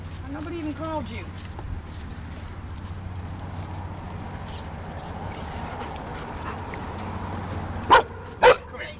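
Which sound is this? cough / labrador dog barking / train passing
labrador dog barking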